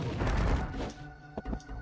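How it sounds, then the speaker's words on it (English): A bomb detonating in the Alundra video game, a loud booming burst that decays over about a second, followed by a couple of faint thuds. "we need to drop a bomb there"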